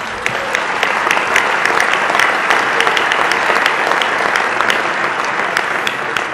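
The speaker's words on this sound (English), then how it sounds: "We're supposed to clap now." Sustained applause from a large banquet crowd at a charity fundraising dinner, dense and steady clapping at close range that fills the whole stretch without any talk over it.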